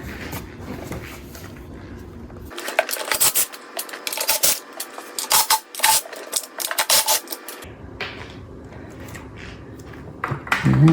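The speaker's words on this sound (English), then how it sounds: "So we're going to scrape that off before we put this all back together." A humming pool pump motor part has deposit scraped off it with a tool, giving bursts of harsh rasping and scratching strokes in the middle, with quieter handling noises before and after.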